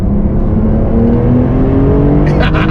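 A 2021 Porsche 911 Turbo S engine roars loudly and climbs steadily in pitch as it accelerates hard, close up, with a brief high squeak near the end.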